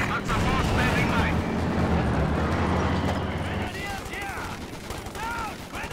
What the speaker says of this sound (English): Those are assault grenades.